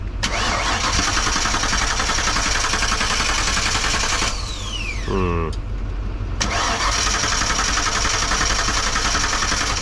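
A 1995 Ford one-ton truck with a 5.8 liter 351 V8 cranks with a loud, steady engine roar that breaks off briefly in the middle before resuming, with a short squealing whine and a sharp pop during the gap.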